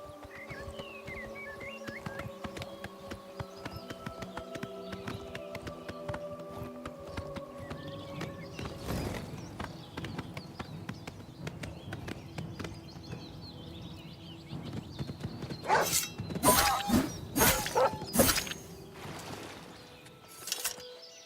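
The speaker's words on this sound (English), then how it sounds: "so many pretty horses" Horses trot in the video game Oblivion, with rapid clip-clop hoofbeats over a quiet outdoor ambience of birds and insects, growing louder and more forceful near the end.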